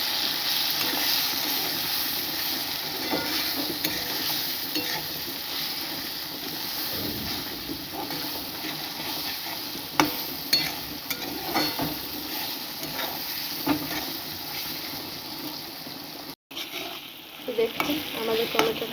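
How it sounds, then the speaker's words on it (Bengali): Turmeric and chili powder are stirred in a frying pan, a soft continuous sizzle with scraping spatula strokes and a few sharper knocks against the pan, close and steady throughout. "পরিমাণ মতন হলুদ, লঙ্কা গুঁড়ো ভালো করে নেড়ে নেব"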